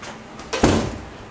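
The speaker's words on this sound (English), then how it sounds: "let me just close this door." A door is pushed shut indoors, giving a single soft thud with a short rustle just before it, heard alone without talk.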